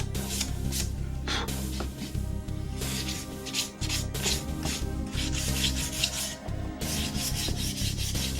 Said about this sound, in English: just a light coat, sanding, just to get down all of those wood fibers that stood up from being wet